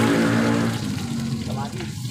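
Garlic and onion sautéing in a pan for ginisang alogbati with ground meat, a loud, close sizzle that starts strong and eases slightly, with a voice talking over it.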